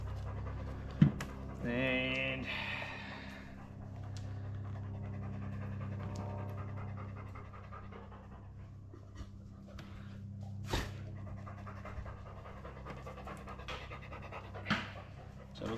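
A dog pants steadily nearby through most of the span, soft rhythmic breaths with a few louder snorts, while someone talks intermittently over it during work testing batteries for a home-built generator set on a catamaran build site.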